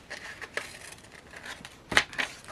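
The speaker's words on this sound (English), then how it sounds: "Or I could trim the seaweed. So let me just try to go in here and trim off a bit" Scissors trim a printed paper seaweed cutout in a few quiet, close snips, the sharpest two coming near the end.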